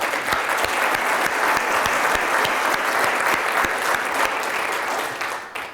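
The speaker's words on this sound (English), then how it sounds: "May I have a round of applause for those individuals." A round of applause from a seated crowd at a city conference luncheon, steady dense clapping held at an even level for several seconds before starting to fade at the end.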